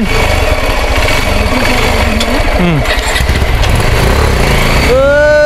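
A motorcycle engine runs loud and close on a village outing in rural Nepal, a steady buzzing drone under people talking throughout.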